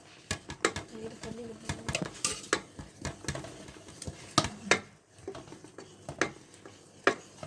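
Adhirasam dough mixture being stirred quickly by hand, giving a close series of sharp taps and clicks against the vessel with speech over it.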